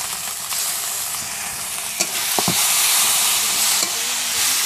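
Tomato paste hits a pan of onion-garlic-ginger paste, and the frying turns into a loud, broad sizzle, with a few spoon scrapes and taps as it is stirred for a village-style fish curry.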